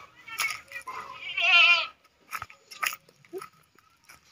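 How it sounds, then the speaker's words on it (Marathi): Goats bleat in a few wavering calls, one long quavering bleat standing out, with scattered crunching and rustling noises close by. "शेरड वरडायला लागले ते."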